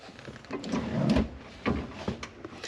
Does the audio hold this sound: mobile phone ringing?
no